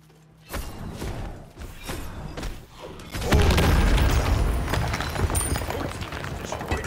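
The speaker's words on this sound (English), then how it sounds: "Your team has destroyed a middle enemy tower." A tower is destroyed in the game SMITE during a middle-lane fight: a burst of booming thuds and impacts, followed by a loud, sustained rumbling collapse, with no talk over it.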